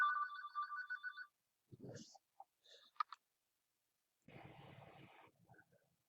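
A phone ringing during a home recording, starting with a clear electronic ringtone trill that stops after about a second, followed by scattered soft clicks, a brief thump and a stretch of muffled rustling.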